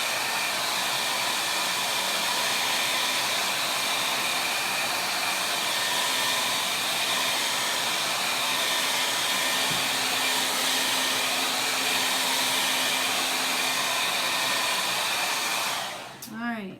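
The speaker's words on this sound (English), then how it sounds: "I do have a dryer off to the side here, which I'm going to use to dry this quickly" A handheld hair dryer blows steadily at close range to dry chalk paste on a patriotic vintage truck craft piece, a continuous loud whoosh lasting about sixteen seconds before cutting off abruptly at the end.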